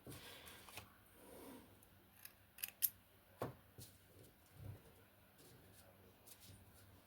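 Scissors snipping thread during hand stitching: a few faint, quick clicks close by over a quiet room background.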